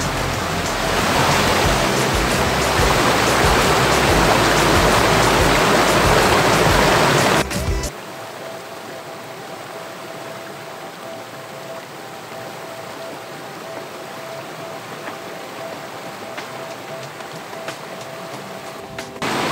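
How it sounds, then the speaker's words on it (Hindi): Waterfall near Naran falls from a height into a picnic spot, giving a loud, dense rushing wash for about seven seconds before the sound cuts to a much quieter, steady distant hiss of water. "ये अभी देखें आपके आबशार के पानी का एक बहुत ही प्यारा मंज़र है"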